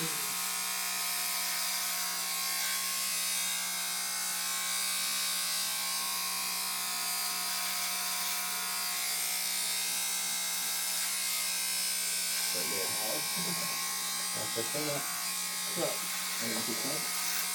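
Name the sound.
electric razor shaving a head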